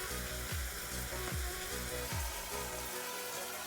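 Soya chunks sizzle and fry steadily with spices in a hot pan, with loud continuous frying and a few scraping stirs under it, and no one speaks.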